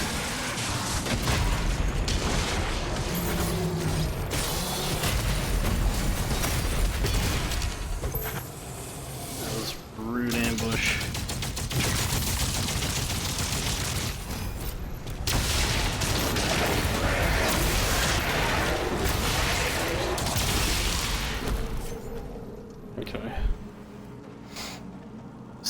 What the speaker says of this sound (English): I'm already liking the rocket launcher.